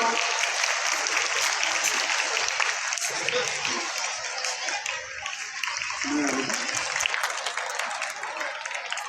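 Audience applause at a voter awareness day prize ceremony as winners are called to the stage, sustained mass clapping with a public-address voice speaking over it.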